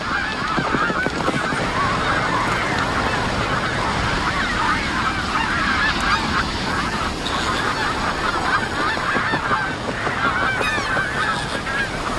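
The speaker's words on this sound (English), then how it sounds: "the lake has become an essential rest stop for more than 260 species, over 2 million migratory birds, traveling between Europe and Asia" A large flock of migratory geese honks continuously at a lake rest stop on a route between Europe and Asia, many overlapping calls forming a dense, steady chorus with no talking.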